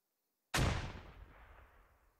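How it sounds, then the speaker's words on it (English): A grenade explodes in the military shooter Squad: one sudden loud blast after half a second of silence, its rumbling tail fading out over the next two seconds, with no voices. "Another grenade going off."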